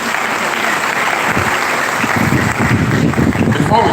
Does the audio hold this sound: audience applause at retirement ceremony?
yes